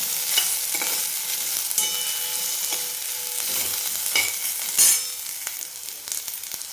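Garlic cloves and two green chillies sautéing in a pan for a spicy village-style curry, a close crackling sizzle with repeated spatula stirs and scrapes, one sharper clatter near the end, no voices.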